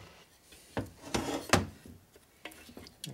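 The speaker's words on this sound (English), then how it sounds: "So we come in here with this scraper and knock off that." A metal scraper knocking old gasket material off a 1972 Harley-Davidson Ironhead Sportster engine case, heard as a few short, fairly close rasping scrapes with quiet pauses between them.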